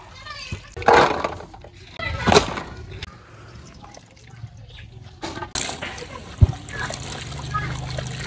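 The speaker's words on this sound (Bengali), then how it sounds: "এখন শাপলাগুলো ধুইয়ে নেই" Water lily stems are washed in water, giving a few brief splashes and trickles up close, while children's voices chatter in the background.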